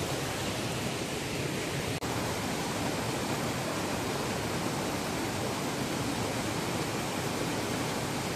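A dirty river flows steadily, a dense, even rushing roar close by with no pauses and no voices.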